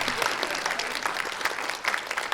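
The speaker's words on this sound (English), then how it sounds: "Big round of applause for a fursuiter who didn't know they were going to help us out" A crowd at the Megaplex 2019 furry convention applauds a fursuiter with continuous, fairly close clapping that holds steady throughout.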